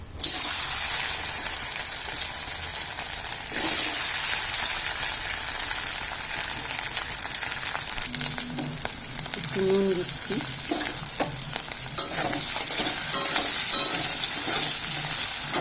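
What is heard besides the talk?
boiled potato pieces frying in oil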